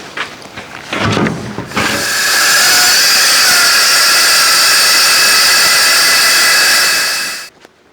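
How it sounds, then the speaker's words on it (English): A power saw cuts through steel sheet for a narrowboat skin tank: a few brief knocks, then a loud, steady, screaming hiss for about six seconds that stops abruptly. "I'll get the noisy saw out and we'll saw it off."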